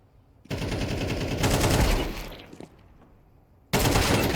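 Automatic gunfire from a Counter-Strike 2 match fires in two loud, sustained bursts of rapid shots separated by a quieter pause, with no talk over it.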